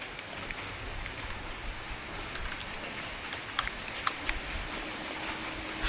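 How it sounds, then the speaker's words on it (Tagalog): Steady rain hisses softly and evenly, with a few sharper drips and taps standing out near the end. "Inabot tayo ng ulan."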